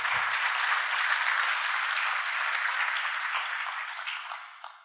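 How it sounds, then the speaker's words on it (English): An audience at an investment event applauds: dense, steady clapping fills the room, loud and continuous before fading slightly toward the end. "Let's give them all a big round of applause."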